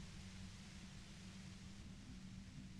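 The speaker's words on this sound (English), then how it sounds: "You hear through the white noise. It's especially bad suddenly." Steady white-noise static from Disco Elysium, a constant hiss with a low droning hum underneath that runs unbroken and fairly loud for the whole stretch, with no voices.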